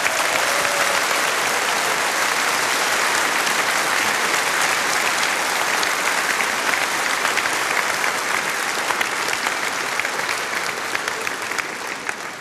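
Loud, sustained applause and cheering from a large audience for a band at a Musikantenstadl television show in Bozen, steady and dense throughout before tapering slightly at the end.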